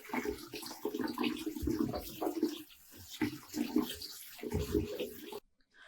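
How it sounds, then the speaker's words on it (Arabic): Beef trotters being rinsed of flour under running water, a steady splashing and pouring with brief pauses, fairly close, then cutting off abruptly near the end. "بعد كده بشطفها بقى من الدقيق مرة واتنين لحد ما تنضف معايا"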